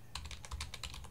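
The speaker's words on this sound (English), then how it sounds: "I'm going to go ahead and basically type the script here" Rapid keystrokes on a computer keyboard as a script is typed, about ten quick, close clicks in an irregular rhythm with a low background hum, no voices.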